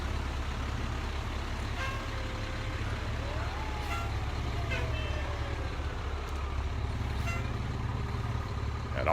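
Hardinsburg Fire Department vehicles roll through the Cloverport Christmas parade with a steady low engine rumble and a few faint tonal whines, under a constant murmur of the outdoor crowd.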